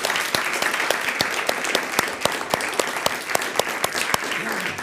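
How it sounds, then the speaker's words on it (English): Audience applause for panel speakers at a press freedom event, a steady burst of many hands clapping at close range, sustained evenly throughout. "So we'll give them an applause"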